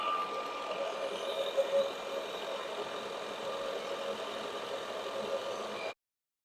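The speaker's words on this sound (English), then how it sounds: "I'm just using a 4-flute end mill to do this" A milling machine with a 4-flute end mill cuts a hole in a copper Rotax 185 head gasket, a steady mechanical whine and hum that stops abruptly near the end.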